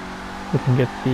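Engine of an Emperor ETR1 drift car doing tight donuts in GTA Online, a steady hum broken by three short bursts of revving, close and loud.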